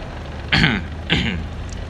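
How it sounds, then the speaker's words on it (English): Two rough throat-clearing grunts, close to the microphone, separated by a brief pause over a low background hum. "Sorry, I had to clear my throat."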